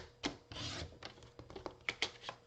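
A papercraft piece having its edge trimmed, giving soft, close scraping and snipping rubs in short irregular bursts, faint and quiet with no voices.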